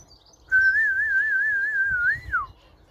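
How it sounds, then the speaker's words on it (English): A person whistles a long, clear wavering note to call pigeons home, holding it steadily for about two seconds before a quick downward slide, close and alone over faint background rumble. "Got a whistle now."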